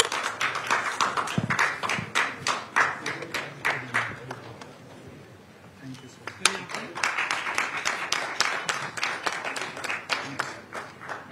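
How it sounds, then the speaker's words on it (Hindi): An audience at the Maharashtra Urja Summit 2024 claps in a hall in a steady, rhythmic applause that fades briefly mid-way, then swells again, while a voice speaks over it. "देवियों और सज्जनों तालियां बजती रहनी चाहिए"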